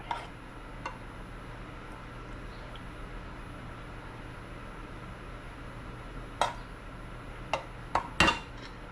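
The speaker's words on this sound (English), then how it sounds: "Going to put a nice heaping spoonful in here. Move it around." A spoon scoops and stirs sauce in a dish for a chicken sausage lasagna loaf, giving a few faint scrapes, then soft clinks and a small cluster of taps near the end over quiet room hum.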